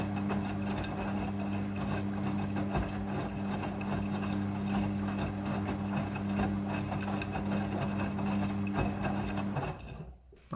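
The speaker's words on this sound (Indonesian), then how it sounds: "jumlah air yang dibutuhkan untuk proses pembilasan ini diatur secara" A washing machine on its rinse cycle runs with a steady mechanical hum and whir for about ten seconds, then cuts off abruptly near the end.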